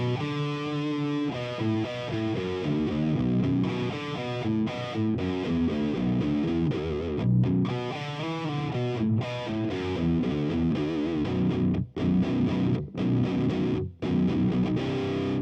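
Heavily distorted electric guitar played through an amp, a run of chords and riffs, loud and saturated, with a few brief breaks near the end.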